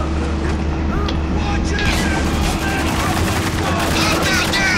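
Sustained blind-fire bursts in the video game Spec Ops: The Line, loud continuous gunfire over a low rumbling backdrop with scattered sharp impacts, partly overlapped by voices.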